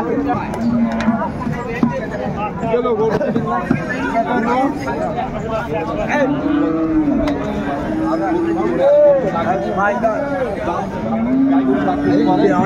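Cows and calves moo at a busy rural cattle market, loud and close, over constant crowd chatter and people talking throughout.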